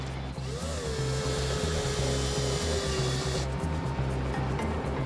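A power drill bores into a plaque with a steady high whine, while a regular low mechanical thudding pulses underneath and the bit's pitch slowly drops as it works, then the whine eases near the end.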